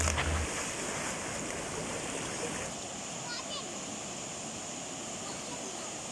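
Steady river water flowing past an Orang Asli indigenous village in Malaysia, a continuous broadband rush with a brief louder splash at the start, heard alone without talk.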